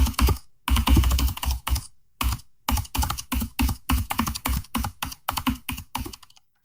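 A rapid run of AI-generated computer keyboard clicks, made by Adobe Firefly, sounds close and crisp. Keystrokes come in quick bursts and then steadier, evenly spaced taps, with no voices.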